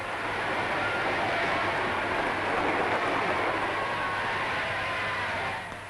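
A special train carrying the royal couple to Winchester rumbles steadily past at Waterloo station on a winter evening, a dense continuous roar of wheels and carriages that holds loud throughout before easing slightly at the end.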